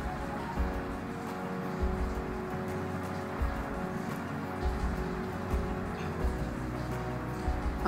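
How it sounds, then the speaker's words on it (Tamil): Sliced onions and green chillies sauté in a pan for a Tamil-style mutton breast bone soup, giving a soft, even crackling sizzle like light rain, moderately quiet and continuous with no one talking. "இப்போ வெங்காயம் நல்லா வதங்கட்டும். அது கூட நம்ம காரத்துக்கு தேவையான அளவு பச்சை மிளகாய் சேர்த்துக்கலாம்."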